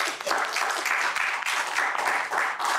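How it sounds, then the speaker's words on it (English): Steady, dense audience applause fills a student election debate hall after a General Secretary candidates' session, sustained and fairly loud throughout without any voices over it. "let's give another round of applause to Saad and Blist"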